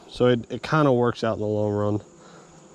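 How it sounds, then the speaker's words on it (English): Honeybees in an open hive keep up a steady background buzz beneath a man's close, continuous talk, which stays much louder than the insects. "the bees will kind of wiggle out of each other's way"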